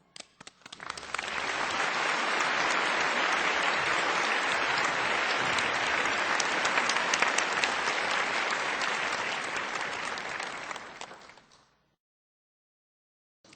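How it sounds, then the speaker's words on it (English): Warm audience applause at a conference welcoming Supreme Master Ching Hai, a dense crowd of clapping that swells quickly, holds strong and even for about ten seconds, then fades out. "let's welcome Supreme Master Ching Hai with warm applause"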